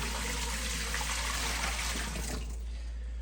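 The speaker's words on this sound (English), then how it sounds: "We'll rinse the bucket out with cold water" Cold water runs steadily from a tap into a bucket that held meat-curing brine, a loud, continuous splashing rush that cuts off near the end.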